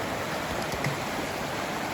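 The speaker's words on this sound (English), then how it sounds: "a water crossing for David across Agua Caliente." Stream water rushes steadily at the Agua Caliente crossing on the Pacific Crest Trail, a constant close wash of flowing water with no voices.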